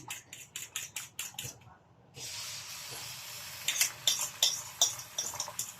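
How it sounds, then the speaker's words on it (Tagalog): Scrambled egg frying in cooking oil, a faint steady hiss and sizzle broken by a run of soft rhythmic ticks and clinks from a utensil, quiet and close. "So, dito ko na rin siya piprito, yung scrambled egg natin dito sa mantika na to."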